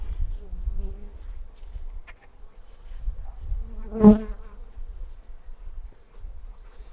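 Bees buzzing from an opened nuc hive full of brood, a soft continuous hum with one louder buzz passing close by midway, while a person speaks quietly.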